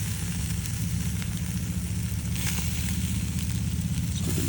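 Korean kalbi beef with garlic sizzling on a grill kept on low heat, a steady close crackling hiss with a low rumbling hum underneath, continuous and without talk.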